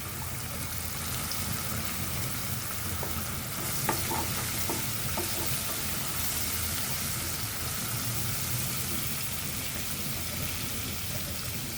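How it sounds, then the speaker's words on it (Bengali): Big fish frying in oil with bay leaf, cloves and cinnamon for a fish curry, a steady close sizzle and hiss with soft stirring scrapes, continuous through the whole stretch with no talking. "বড় মাছেতে একটু সামান্য তেজপাতা লং দারচিনি কালো ফল দিলাম"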